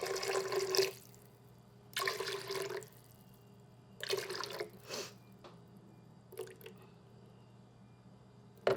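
Cold water runs into a container in a home kitchen for gluten-free pie dough, several short splashing pours separated by quiet pauses, close and fairly soft.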